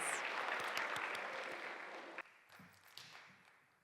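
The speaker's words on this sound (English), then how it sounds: "Yeah, another applause" Audience applause for a performer at an Arangetram dance recital, a dense wash of clapping that holds steady, then thins abruptly to a few scattered claps and taps as it fades.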